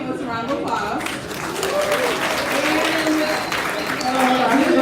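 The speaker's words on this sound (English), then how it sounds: "give a panelist a round of applause" A panel audience at a Pride event gives a round of applause for a panelist: steady clapping with voices and cheers mixed in, sustained throughout and swelling slightly toward the end.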